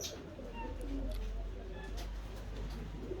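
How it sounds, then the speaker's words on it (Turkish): Unusually large King pigeons coo softly in a loft coop, low throaty murmurs rising and falling over a steady background hum, with faint brief chirps scattered through. "Arkadaşlar böyle bir takım King kuşlar olağanüstü iri"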